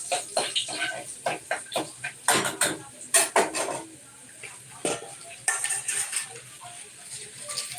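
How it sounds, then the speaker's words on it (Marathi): Dal is tempered with spices in a pan, a metal spoon clanking and scraping against the pot in quick bursts over a faint sizzle, close by. "बघा मी डाळीला फोडणी देते इकडे साईडला"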